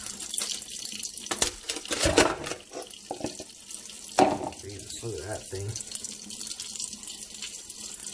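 Hot water runs steadily from a sink tap over a frozen LG VX5500 flip phone, a continuous splashing hiss with a few louder bursts, while a person talks over it.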